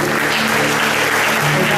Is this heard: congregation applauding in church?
yes